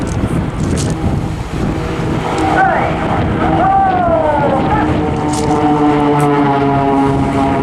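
Four display aircraft of an airshow team flying synchronised aileron rolls at Eastbourne, engines droning loudly and sweeping in pitch as they pass, with a commentator talking over the roar.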